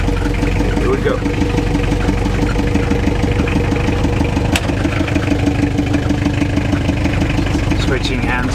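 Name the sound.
1928 Dodge 124 car engine idling in first gear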